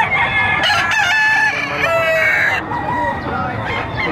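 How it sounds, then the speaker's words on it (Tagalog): A rooster crows loudly and close at a poultry market in Padre Garcia, Batangas, with harmonic calls stretching over several seconds amid a busy, steady background of other fowl and crowd noise. "Mag-iisang taong manok."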